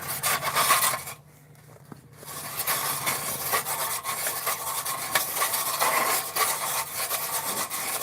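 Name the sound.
drilling a hole through ice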